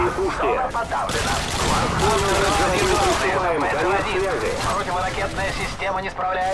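Heavy gunfire in the Call of Duty: Modern Warfare 2 video game, dense bursts of rapid shots and explosions rolling on continuously and loudly across the whole stretch.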